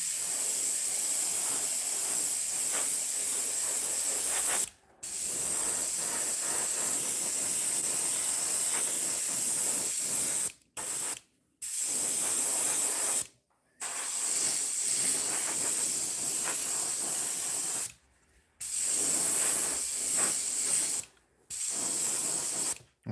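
An airbrush sprays white paint onto a musky crankbait lure in steady, loud hissing bursts broken by several brief pauses, close up and with no talking.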